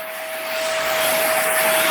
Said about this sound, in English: It is not bumping and going as other stick vacuums have in the past.